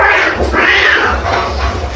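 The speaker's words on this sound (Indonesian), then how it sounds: "Jangan sampai kucing berisik nih kucing, kawin-kawin aja cing." Cats caterwauling during mating, with drawn-out, wavering yowls rising and falling over about two seconds, loud and close, with no talk over them.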